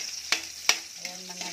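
Onions frying and being stirred in a pan for adobong isaw, with a soft background sizzle broken by two sharp utensil scrapes and a few lighter clinks.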